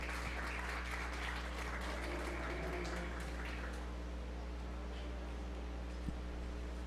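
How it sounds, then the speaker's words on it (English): Audience applause for the steer exhibitors in the show ring at a 4-H fair beef show, a steady rush of clapping for the first few seconds over a constant low hum of fans or machinery, tapering off after that. "let's give these exhibitors one more round of applause"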